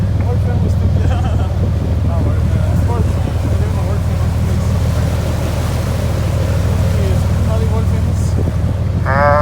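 Strong wind buffeting the microphone on Alcatraz Island in San Francisco Bay, a loud constant low roar with gusty rumble, mixed with distant boat engine drone and faint voices in the background.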